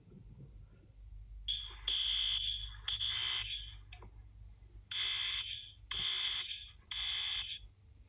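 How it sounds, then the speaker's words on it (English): A fire alarm sounds in loud, harsh electronic bursts, five separate blasts roughly a second each with short gaps, over a quiet low hum. "imagine waking up to the sound of fire alarms blaring in your house."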